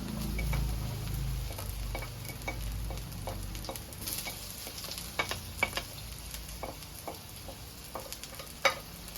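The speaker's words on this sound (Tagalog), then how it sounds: "Gigisa na tayo." Aromatics sizzle in a hot pan for pininyahang manok while a utensil stirs them, sending a steady frying hiss under quick, irregular ticks and scrapes at close range, with no speech.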